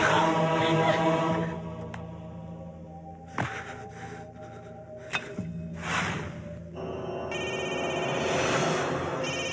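A telephone rings on and on without being answered, repeated electronic bell bursts with brief pauses and a few soft thuds between them, fairly loud and with no speech over it.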